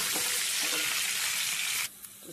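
Chillies, garlic, curry leaves and spices temper in hot oil with a dense, close crackling sizzle. The sizzle stops suddenly near the end, leaving a couple of faint clinks.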